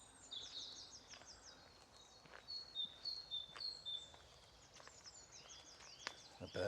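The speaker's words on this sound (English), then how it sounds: "The birds are communicating." Wild birds chirp and whistle in a country park on a spring walk, with a run of quick, high, fairly faint calls in bursts against quiet open-air background, and no voices.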